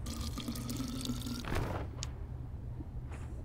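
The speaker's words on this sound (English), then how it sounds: "and there's your water" Water sound in the video game Tails of Iron: a steady wet trickle and dripping, loud and close, with a brief splashy burst partway through and a quieter flowing tail.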